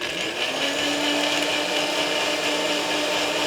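A blender runs loudly and continuously, crushing ice for a whiskey slushy cocktail. The motor roars with a gritty, rattling churn throughout, close up and with no talk over it.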